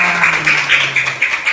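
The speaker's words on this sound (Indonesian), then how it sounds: "Kasih tepuk tangan buat." A classroom of students gives a round of applause during an Islamic studies lesson on the Qur'an and Sunnah, a steady, fairly loud patter of many hands swelling in repeated waves for over a second.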